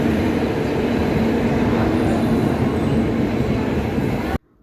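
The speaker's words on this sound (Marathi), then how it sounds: "आमची ट्रेन आलेली" A passenger train arrives and runs past at a railway station at the start of a trip to Jodhpur, Rajasthan, a loud, steady rumble of wheels and carriages that continues without a break, then cuts off abruptly at the end.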